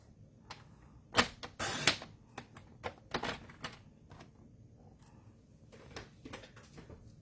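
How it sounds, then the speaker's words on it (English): A paper trimmer cutting cardstock to 5 inches for a handmade card: a few close, sharp clacks and a brief scraping slide of the blade, then quieter taps and handling noise, fairly soft overall and without speech. "So I'm going to trim this one down to 5 inches."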